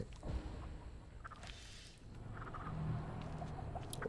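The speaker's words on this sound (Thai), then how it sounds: "ตรงนี้ไก่ด้วยต้องค่อยๆเดิน ไม่งั้นแบบไม่เนียนไง" Chickens clucking in The Texas Chainsaw Massacre video game, soft scattered clucks over a dense ambient game background with no one talking.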